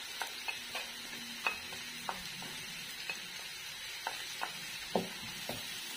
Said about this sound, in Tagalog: Then, gisa lang natin.